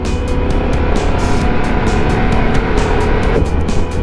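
A 2021 Harley-Davidson Pan America Special motorcycle being ridden: a loud, steady engine drone with wind rush, heard close and continuous with no talking.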